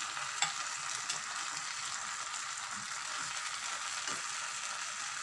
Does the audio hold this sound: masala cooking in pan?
yes